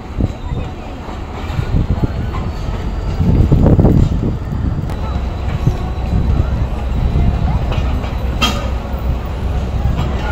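Allama Iqbal Express train pulling into platform two at a station, a steady rumbling roar with a louder swell midway, heard close with wind buffeting the microphone throughout.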